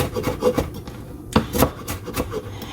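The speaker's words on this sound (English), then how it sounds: "So I'm just chopping up the onions." Onions being chopped with a knife on a board for a vegan Impossible cheeseburger, giving a series of fairly close, uneven thuds and scraping rasps with no talk over them.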